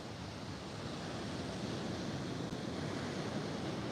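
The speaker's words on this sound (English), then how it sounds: "those waves are good coming in" Ocean waves roll in at Huntington Beach as a steady, even wash of surf with a soft wind hiss, and no voices are heard.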